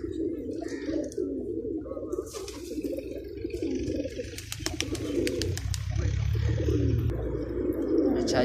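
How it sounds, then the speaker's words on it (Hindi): Pigeons cooing steadily in a large flock of over a hundred birds at a loft, a continuous low rolling coo close by, with a few sharp clicks and faint background noise. "देखें बहुत मस्त कबूतर हैं"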